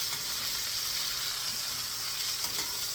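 Veal cutlets sear on a cast iron pan, giving a steady, even sizzle with broad hiss, close and moderately loud throughout with no other sounds.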